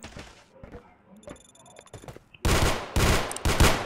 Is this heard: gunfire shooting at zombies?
yes